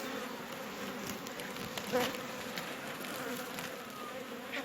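Honey bees of the Balcı breed swarm around a strong five-to-six-frame beehive, making a dense, steady, close buzzing drone throughout with no talk.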